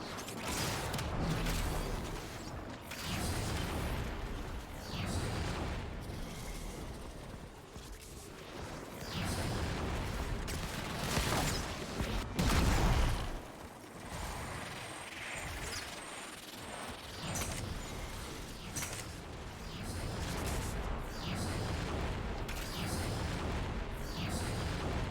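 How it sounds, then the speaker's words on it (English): Dense, continuous gunfire and booming weapon blasts from the Warframe video game, loud and sustained throughout with heavy low-end impacts and no clear pauses. "I want to shoot you with gun."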